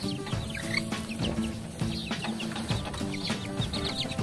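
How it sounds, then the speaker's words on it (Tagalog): Backyard Aseel chickens and young chicks cluck and chirp continuously at close range, overlapping soft clucks and peeps forming a busy, steady flock chatter. "panigurado ay babaeng manok to"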